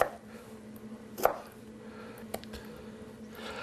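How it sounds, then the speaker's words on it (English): A knife cuts through tomatoes on a cutting board for chunky guacamole. A few soft, separate chops stand out against a quiet kitchen hum. "Now, I like my guacamole chunky, so I pre-cut the tomatoes, as you're seeing me do."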